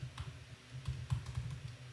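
Rapid clicking of keys on a computer keyboard, a steady run of light, close taps with brief pauses and no voices.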